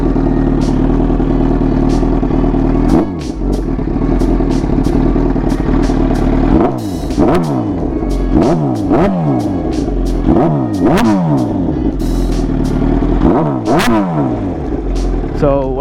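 A Yamaha R1 sport motorcycle engine idles loudly up close after a cold start, then is revved again and again in sharp, rising bursts.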